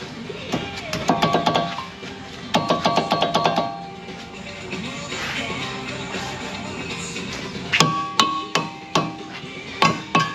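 Mallet blows on a damaged brake rotor being freed from the hub of a Kia Sedona, arriving in quick bursts of sharp metallic knocks, with pauses between the volleys.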